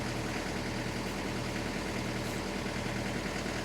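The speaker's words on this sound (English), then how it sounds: "Luckily we've got an idle up here, so you press that and it obviously increases the idle rate" A vehicle engine running at raised idle to warm up on a winter day, a steady, dense rumbling drone that stays loud and unchanging throughout, with no talk.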